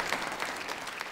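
A studio audience applauds during a Serbian television entertainment show, giving a short burst of steady clapping from many hands at moderate volume.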